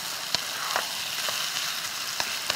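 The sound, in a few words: stir-frying burdock japchae in a pan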